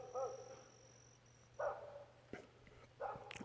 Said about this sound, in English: And sorry if the dog's barking.